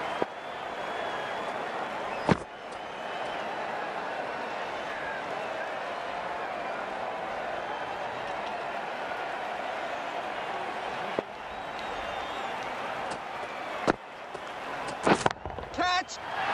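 Cricket stadium crowd at a 2023 World Cup match between South Africa and Australia, a steady, dense roar of cheering and applause with a commentator talking over it and a few sharp spikes near the end.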